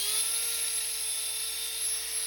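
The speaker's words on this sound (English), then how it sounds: "This is Dremel drum sandpaper." Dremel drum sandpaper spinning against cast resin on a repaired pottery bowl, a steady high-pitched rotary whine held evenly throughout, close and moderately loud with no voices.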